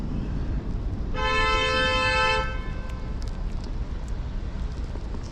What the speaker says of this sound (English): What you honking at there?